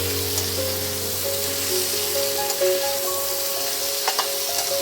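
Mixed vegetables for a Bengali niramish panchmesali torkari are stirred and fried in a pan, giving a steady close sizzle with soft scraping stir strokes throughout and no talking.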